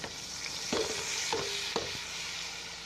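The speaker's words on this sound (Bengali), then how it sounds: "এখন চাউলগুলো দেবো, চাউলগুলো হালকা করে ভাজবো।" Rice frying lightly in hot oil with mixed spices gives a steady sizzle, broken by three clear scraping stirs of a utensil against the pot.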